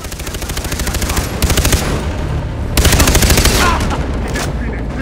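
Machine gun fire from the video game Far Cry 3 rattles in long, loud, rapid bursts, with dense continuous shots and a short pause between volleys.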